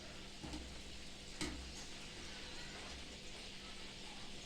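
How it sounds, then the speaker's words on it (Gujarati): Samosas frying in oil over medium heat give a faint, steady sizzle with soft bubbling and an occasional light crackle, heard close and alone. "એકદમ મીડિયમ તાપ ઉપર સમોસાને ફ્રાય થવા દેવાના છે"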